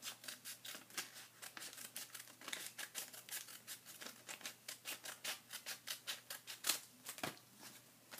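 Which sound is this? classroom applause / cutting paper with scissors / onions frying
cutting paper with scissors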